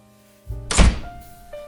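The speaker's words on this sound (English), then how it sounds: "The door goes down quicker than I'd expect" A door is forced in and broken down with one heavy, booming thunk and a crash, followed by a short rattling decay and a faint tonal ring in an otherwise quiet space.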